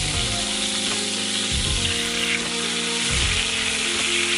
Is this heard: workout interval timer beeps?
no